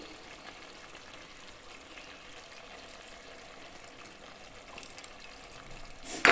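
Mutton curry with curd and green chili paste sautéing in a pan, a soft continuous sizzle close by, rising slightly in the final moments with a sharper clatter.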